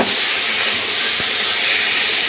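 Fried potato and pointed gourd pieces sizzle in hot spiced oil with mustard-style masala, a steady, loud, broad hiss running unbroken from start to finish with no voices.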